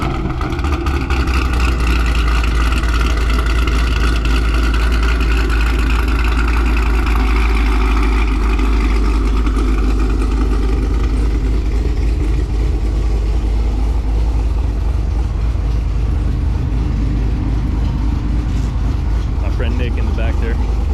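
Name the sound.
2022 Camaro ZL1 1LE engine starting up and idling with cam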